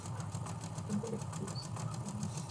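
A sewing machine stitches pinned fabric, a steady close hum with a rapid even needle rhythm running throughout at moderate level.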